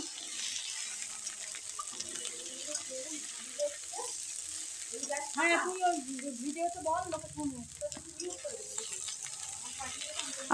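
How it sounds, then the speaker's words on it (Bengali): Tomato and ginger paste fries in a pan for a vegetarian cabbage curry, giving a steady, fairly loud sizzle with some soft scraping and clatter of stirring throughout. "এবারে ওপর থেকে আমি এতে দিয়ে দেব টমেটো আর আদা বাটা"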